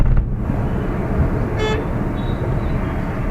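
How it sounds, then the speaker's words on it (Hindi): A car horn sounds in a short burst over steady engine and road noise from inside a moving driving-school car in traffic. "इसको हॉर्न कंटिन्यूसली देते रहो"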